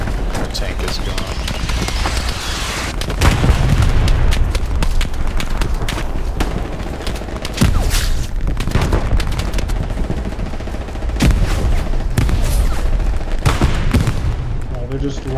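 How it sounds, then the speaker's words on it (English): A World War II firefight in the game Hell Let Loose, set in Hürtgen Forest: constant rattling gunfire and heavy booms from grenade blasts, loud and dense throughout, with players talking over the din. "Just lobbing nades in."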